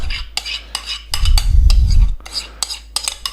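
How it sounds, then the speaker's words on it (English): A big spoon stirs dressing through a fresh broccoli summer salad, giving repeated close scraping clicks against the bowl with a heavier churning swirl in the middle. "we are going to stir it in"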